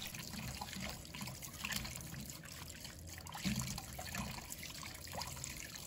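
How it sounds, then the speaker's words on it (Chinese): Pork liver is rinsed under running water to wash off dust and blood, giving a soft, steady trickle and splash of tap water, fairly faint and close, without talk. "水把它清洗一下，把表面的灰尘和血水清洗干净"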